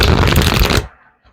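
Playing cards being shuffled in a tarot-style reading, a loud dense riffling burst lasting under a second that stops abruptly, followed by near silence and a faint brief tap.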